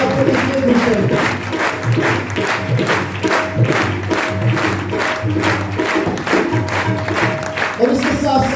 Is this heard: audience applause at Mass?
yes